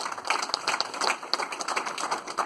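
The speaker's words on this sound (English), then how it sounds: "So please give your hand in big applause" Light, scattered clapping from an audience at a discussion on India's 2019 general elections, faint and patchy rather than a full ovation, lasting a couple of seconds with no talk.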